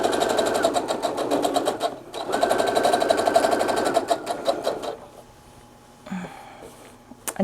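A sewing machine stitches minky blanket fabric in close, rapid bursts, with two long runs broken by a short pause, then stopping for quieter handling noises and a brief final whir.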